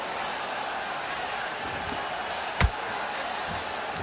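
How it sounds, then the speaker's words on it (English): A steady, dense crowd murmur fills a large indoor boxing arena before a title fight, with one sharp bang standing out briefly near the end. "The crowd here cannot wait. They've been buzzing all day long"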